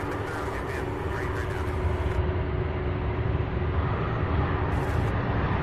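A Boeing 767 from Austin, Texas, at the UPS Worldport at Louisville airport at night, heard as a steady, broad jet rumble with faint voices alongside.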